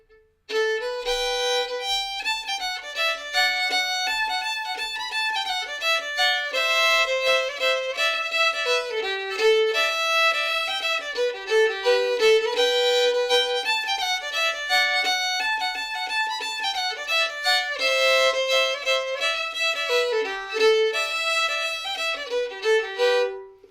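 A fiddle in GDAE tuning plays the B part of the tune "Johnny Come Along" alone, a lively, continuous melody of quick bowed notes at a steady moderate volume for over twenty seconds, with no voices.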